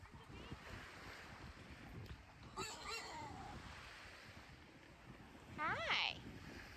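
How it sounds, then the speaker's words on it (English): A rooster on Staniel Cay in the Bahamas gives a short crowing call near the end, heard over steady surf and wind, with a brief earlier squawk-like sound and a person talking nearby. "That's a dumb rooster."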